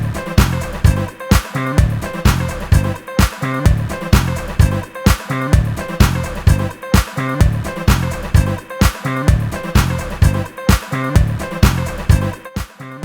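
A full music mix runs through four stacked Pro L2 limiters, giving a loud, dense beat with regular punchy drum hits and a noticeable low-end boost, playing alone without talk.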